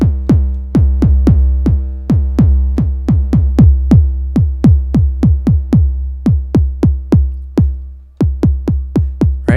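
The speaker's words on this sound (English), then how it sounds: "This greedy, very nice sounding kick drum." Synthesized kick drum from a Noise Engineering Basilimus rack extension in Reason, hitting in a fast, loud, steady run of deep booming thumps with a short gap near the end and nothing else alongside.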